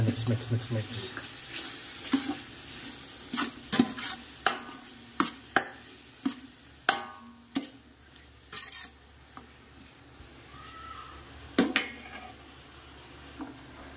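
Carbonara sauce stirred in a pan, giving a series of irregular scraping and clinking strokes with soft sizzling underneath, close and moderately quiet, while a voice talks at times.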